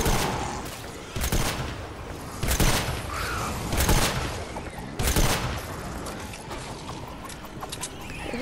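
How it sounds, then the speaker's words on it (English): Shotgun blasts in Fortnite Save the World: several loud, sharp booming shots at irregular intervals, about five over several seconds, over busy clattering game noise, with no voices. "I'm about to use my last three shotgun shells."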